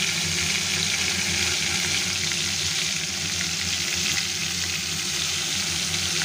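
Prawns with salt and turmeric fry lightly in hot oil, giving a steady, close, continuous sizzle with no talking.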